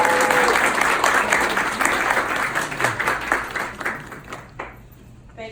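An audience at an academic induction ceremony applauds a keynote speaker, steady dense clapping that gradually thins out and fades over several seconds.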